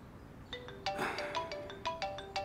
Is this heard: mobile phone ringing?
yes